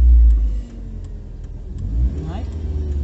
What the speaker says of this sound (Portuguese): Acelera, acelera mais e solta menos a embreagem.